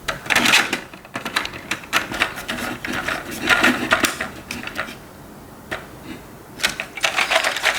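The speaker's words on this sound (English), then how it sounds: "It looks fancy, but as you can hear, it skips gears." A homemade mechanical fan skips gears, giving loud, irregular bursts of rapid clattering and ticking, broken by brief pauses.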